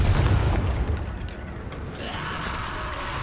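In the game Hogwarts Legacy, the Confringo spell sets off a deep explosive boom at the start. It fades into a rumbling decay and then a softer magical ambience.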